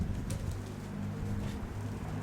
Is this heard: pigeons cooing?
yes